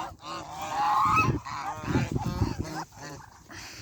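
Domestic ducks grazing on grass in the evening give loud, nasal honking calls in a quick uneven series, close by, with brief pauses between bursts and no talk.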